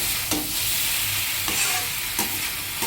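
Chopped vegetables with added tomato stirred while frying in a pan for a potato and snake gourd curry, a steady close sizzle broken by a few scraping stirs of the spoon, with no one talking.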